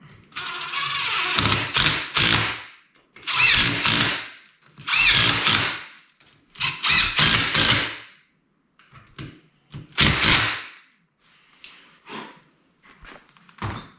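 Power tool snugging bolts on an NP241 transfer case during a rebuild, heard as several loud, separate bursts of whirring and rattling, each a second or so long, with short quiet gaps and a few softer clicks between.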